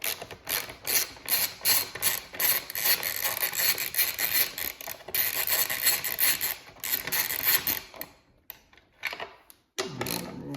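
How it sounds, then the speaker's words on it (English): Ratcheting wrench with a 10 mm socket turning a bolt on a 2021+ Aprilia RS 660 motorcycle, giving rapid bursts of close, crisp clicking strokes, pausing, then a few slower clicks at the end. "grab our ratcheting wrench with our 10 mil"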